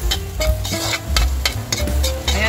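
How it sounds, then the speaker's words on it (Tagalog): Onions going into a pan of golden-brown frying garlic for pancit bihon guisado, a close sizzle broken by repeated clanks and scrapes of a utensil against the pan, with no talking. "golden brown na yung ating bawang, kaya isunod na natin yung ating sibuyas."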